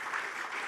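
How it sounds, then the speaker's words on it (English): A short burst of applause from a live podcast audience in Queenstown, a dense wash of clapping heard at a moderate level with no voices over it. "Quick round of applause for Eve"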